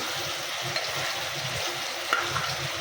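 Mutton being sautéed (kosha) in an uncovered pan, a steady close sizzle and fry with soft stirring scrapes and occasional spatter pops throughout, no voices.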